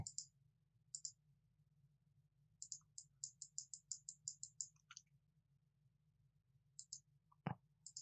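Mouse clicks from the Photoshop polygonal lasso tool come close and crisp, some single and some in quick runs of rapid clicking, with no talk.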